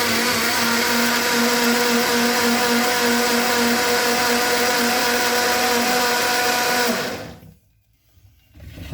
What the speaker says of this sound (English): I have this small blender which is not big.